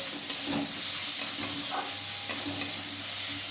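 Ginger-garlic paste frying in a pan for cabbage curry while being stirred, giving a loud, continuous sizzle with rhythmic scraping strokes of the spoon close up.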